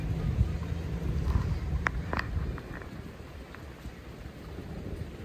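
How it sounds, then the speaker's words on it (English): Steady rain hisses all the way through in Afghanistan, with low rumbling underneath and a few faint knocks and taps. "Waiting for the rain to go away."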